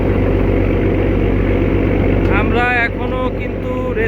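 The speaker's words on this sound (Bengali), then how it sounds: "আর যেই লঞ্চটা আসলো এটা সম্ভবত এমপি রহমত।" A large passenger launch's engine drones loud and steady during a river race between launches, a deep continuous throb close by, with voices and a short horn-like tone rising partway through.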